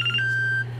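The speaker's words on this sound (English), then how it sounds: "And that's the alarm telling me that I gotta stop." An electronic alarm gives a single short, piercing beep, a thin steady tone lasting about half a second over a low background hum.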